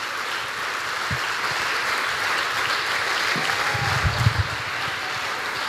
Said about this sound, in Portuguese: Você pode dar um forte aplauso à palavra de Deus?